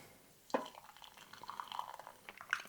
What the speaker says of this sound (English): So let's add our water to the coffee